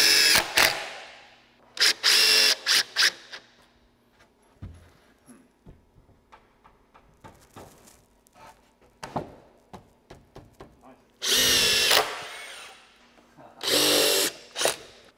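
A power drill runs in several short bursts while decking or subfloor is fastened down during a bathroom and office build-out, with quiet handling and tool clatter between the louder runs.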